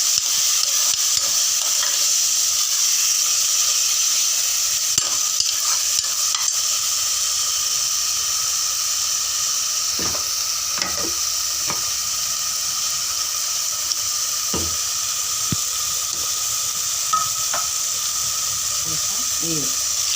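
Tomato puree sizzling in a pan for Punjabi-style aloo dum while a spoon stirs it, with steady frying hiss throughout and occasional scraping strokes against the pan.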